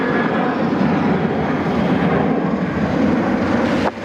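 An Airbus A330 departs Sydney Airport, its jet engines making a loud, steady broadband roar that holds at constant strength for about four seconds before a brief dip at the end.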